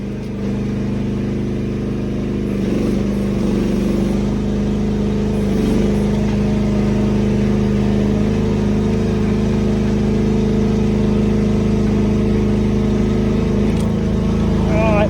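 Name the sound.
car engine revving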